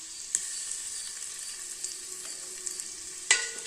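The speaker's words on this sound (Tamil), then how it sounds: "நம்ம இஞ்சி பூண்டு பேஸ்ட் போட்டுக்கலாங்க." Ginger garlic paste frying with onions in a pan, a faint continuous sizzle with a few soft clicks of stirring and one sharper clatter near the end.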